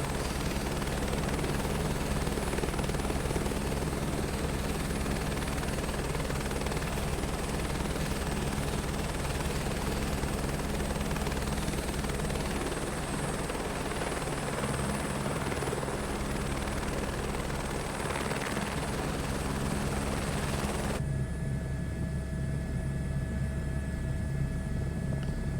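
Helicopter flying steadily through a scenic mountain ride over the Lahaul and Spiti valleys, a loud continuous rotor thrum and engine drone that holds throughout with no talk.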